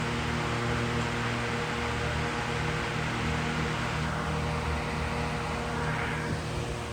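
A Vornado Model 80 fan runs steadily and loudly, giving a dense, even whoosh of moving air with a low motor hum underneath and no other sounds.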